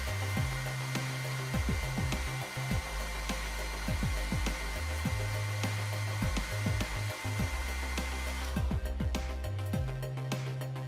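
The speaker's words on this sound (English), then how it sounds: "Apply heat to check the result." A hair dryer runs close and steady as it heats weathered metal model tank tracks with rubber pads, its whirring drone wavering in pitch, then cutting off abruptly near the end.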